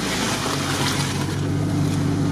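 A GAZ-67 crawls along slowly in first gear, its engine a steady, close, continuous drone with no break, and no voices over it.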